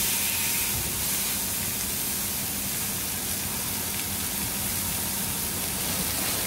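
Jade Wagyu beef sizzles in a hot pan after being seasoned with salt, giving a steady, close, loud hiss that runs unbroken without talk.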